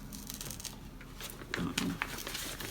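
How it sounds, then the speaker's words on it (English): National Geographic magazine pages being pulled and ripped apart, with close crinkling and tearing bursts of paper over steady room noise, louder near the end. "Ripping this one apart, try not to rip it."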